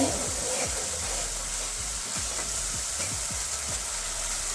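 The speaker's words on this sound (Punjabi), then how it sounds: "ਮਸਾਲੇ ਨੂੰ ਮੈਂ ਚੰਗੀ ਤਰ੍ਹਾਂ ਭੁੰਨ ਲਿਆ" Masala sizzling and roasting in oil in a pan for a sweet-sour pumpkin (halwa kaddu) dish made without onion or garlic, a steady close frying hiss with scattered crackles and occasional stirring scrapes, no talk.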